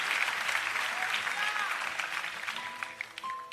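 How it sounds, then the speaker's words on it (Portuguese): A church congregation at a night vigil service applauds in a sustained, dense wash of clapping that gradually thins toward the end, with faint voices and a few brief tones mixed in. "Os que podem dar a Jesus uma linda salva de palmas"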